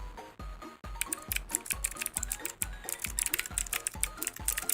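Fingers type on an ASMR computer keyboard, producing crisp, close clacking keystrokes in quick irregular bursts with brief pauses, with no talk over them.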